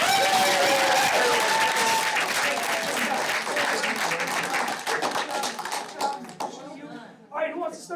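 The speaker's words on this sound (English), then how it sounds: "How about one more round of applause for" An audience at a school district board meeting applauds, dense clapping that gradually thins into scattered claps and a few nearby voices near the end.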